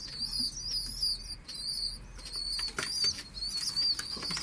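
Misk pigeons flap their wings while pecking at feed, making repeated close flutters and soft wingbeats mixed with thin high chirps throughout.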